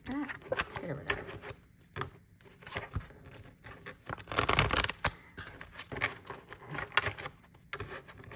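Tarot cards are shuffled in quick riffling bursts with soft shuffling patter, close by and fairly quiet.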